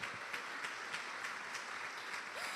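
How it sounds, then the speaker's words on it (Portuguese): A church congregation applauds during a sermon, a distant, fairly faint wash of clapping with a few sharper claps standing out at regular intervals. "Você pode aplaudir o Senhor?"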